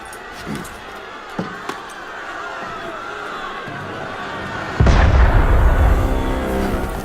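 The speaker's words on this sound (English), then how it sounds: "That was cannon fire." A heavy boom of cannon fire in the video game Assassin's Creed Unity rumbles in, loud and low, after a stretch of ambient noise with faint clinks and distant commotion.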